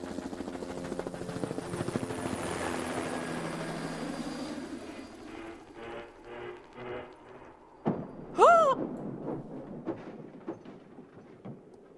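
In the Star Stable video game, a helicopter rumbles with a loud, continuous rotor drone that weakens into uneven pulses, followed by a sudden crash impact and a brief rising-and-falling squeal.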